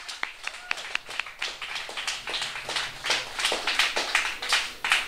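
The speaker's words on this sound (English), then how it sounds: "let's give those 4 men a round of applause, please" Scattered claps from an audience at the re-opening of a refurbished pan theatre, starting as a few distinct slaps and thickening into moderate, uneven applause that swells toward the end.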